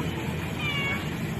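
A large cat gives a faint, drawn-out meow over a steady low background hum.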